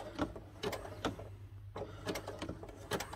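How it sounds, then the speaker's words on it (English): A sewing machine runs a zigzag stitch through thick fabric-wrapped rope, slowly, in short rhythmic bursts of mechanical clatter separated by brief pauses, close and quiet, with no talking. "now we're going to continue with our zigzag stitch"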